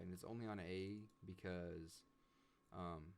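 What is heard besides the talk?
No everyday noises stand out.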